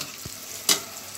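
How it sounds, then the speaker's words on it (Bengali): Cauliflower chops frying in hot oil give a soft steady sizzle, with a brief low knock and then a sharp burst of spattering near the end. "এখন আমি চপগুলো ভেজে ভেজে এখানে তুলব"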